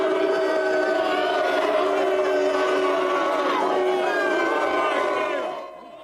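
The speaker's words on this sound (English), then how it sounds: "the King and Queen were greeted by a crowd of anti-monarchy protesters on Whitehall" A crowd of anti-monarchy protesters on Whitehall, London, chants and shouts together as a loud sustained roar of many voices, then fades out at the end.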